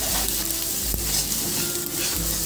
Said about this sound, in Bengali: আমি যতক্ষণ না পটলটা একটু জল শুকাচ্ছে ততক্ষণ নাড়তে থাকবো